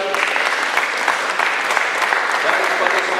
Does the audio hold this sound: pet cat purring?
no